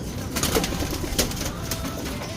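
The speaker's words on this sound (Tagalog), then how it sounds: "Napakarami na ibon natin." Pigeons in a loft with an aluminum training box, soft cooing and bird calls repeating in a steady, moderately close chorus with a few brief flutters, no talking.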